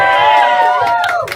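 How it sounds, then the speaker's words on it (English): A crowd at a live music show shouts and cheers in a brief, loud burst of raised voices, with whoops rising and falling over one another. "You guys got to cheer, please."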